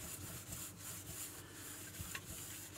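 Dry cloth with furniture polish rubbing over the glass of a 1964 Yantar striking table clock, soft repeated close strokes at a quiet level with no talking.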